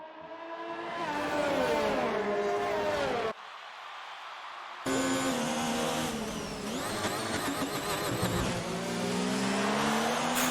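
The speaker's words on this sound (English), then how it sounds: "Listening to that engine scream on those downshifts" A Ferrari race car in an Xbox racing game on the Mexico circuit screams through high-revving downshifts, with a brief gap before the loud engine returns and climbs again, tires squealing at moments.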